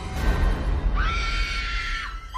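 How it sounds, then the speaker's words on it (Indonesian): A woman screams loudly in a horror film, one long sustained high-pitched shriek over a rumbling, noisy background, tapering off near the end. "Berliana pun teriak sekencang mungkin"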